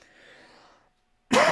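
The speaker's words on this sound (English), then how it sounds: "Still coughing a little bit" A faint murmur, a brief silence, then a sudden loud cough close to the microphone.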